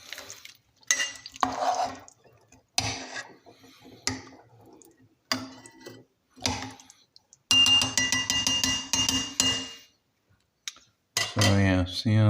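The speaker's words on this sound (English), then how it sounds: "you kind of want to give it a nice little stir before you put the lid on" A pot of Chicana, a Hispanic stew, is stirred with a metal utensil, giving bursts of scraping and clinking against the pot between quiet gaps, with talking in places.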